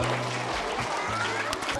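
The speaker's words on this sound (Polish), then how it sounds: "Wielkie brawa jeszcze raz" Brief audience applause after a magic show performance, clapping mixed with a low humming tone and some background noise, short and fairly close.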